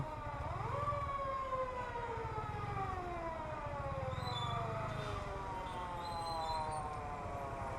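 An ambulance siren wails in repeated falling sweeps through a Dhaka traffic jam, sounding from a moderate distance over a steady rumble of congested street noise.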